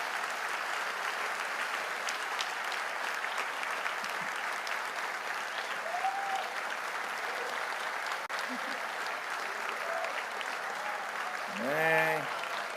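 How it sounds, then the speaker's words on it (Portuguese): A church congregation applauds in a sustained, dense wash of clapping that welcomes a pastor. Brief voices call out over it, and a louder shout rises near the end. "Vamos recebê-lo aqui com aplauso."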